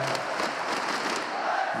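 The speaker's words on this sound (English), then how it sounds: "And now the crowd's got something to cheer for." Large arena crowd at the ESL One New York 2016 Counter-Strike: Global Offensive tournament, a loud sustained roar of cheering and shouting with no break.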